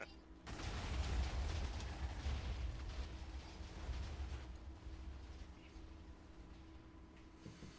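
A kitty cannon in the Minecraft video game goes off in a single loud, rumbling blast that slowly fades out over several seconds.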